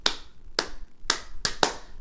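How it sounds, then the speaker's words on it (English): Hands clap out an echo pattern in a classroom music lesson: five sharp, close claps in an uneven rhythm, two spaced evenly and then a quicker pair at the end, with no talking. "And then I do an echo pattern like this. They clap, clap,"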